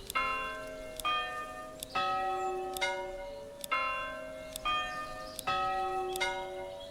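A church bell tune from the medieval village-building game Manor Lords rings out in a steady sequence of regular strikes, each bright chime decaying into the next, moderately loud with no talking.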